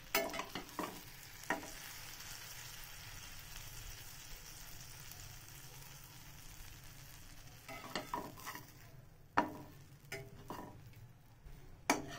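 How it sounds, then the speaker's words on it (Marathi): Bread slices toast in butter in a pan until crispy, a soft continuous sizzle with occasional sharper scrapes and clatters from turning the bread. "तर ब्रेड पूर्ण क्रिस्पी होईपर्यंत दोन्ही साईडने आपल्याला भाजून घ्यायचे"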